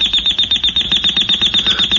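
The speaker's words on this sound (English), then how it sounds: "turn it off, Ted. What? The alarm, honey" In a radio drama, an electronic alarm clock blares a loud, rapid, repeating pulsed beep, with steady, even bursts and no one talking over it.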